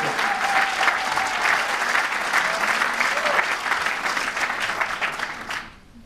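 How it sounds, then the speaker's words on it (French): Audience at a Force Vie national political rally applauds Antoine Renard, head of the Est list, with a loud, sustained burst of clapping that fades out abruptly at the finish. "Je vous demande d'applaudir Antoine Renard, tête de liste Est"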